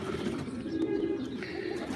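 About 80 pigeons coo steadily and low, a soft continuous murmur from many birds close at hand.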